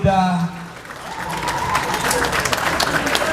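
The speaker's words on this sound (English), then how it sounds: "A round of applause for Hulda." Audience applause at a public gathering in Kenya rises after a brief spoken opening, settling into steady, moderately loud clapping from a crowd.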